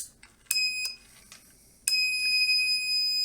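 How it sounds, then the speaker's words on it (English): Low water level alarm gives two sharp electronic beeps, one brief chirp around half a second in and a longer sustained tone later, loud and close in a quiet room with no talking. "There you can see it mutes the alarm."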